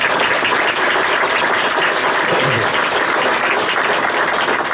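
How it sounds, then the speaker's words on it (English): A large audience at a bridge-tunnel 50th anniversary ceremony applauds steadily, a dense, even wash of clapping that holds at full loudness throughout with no voices rising above it. "I'll give that another round of applause."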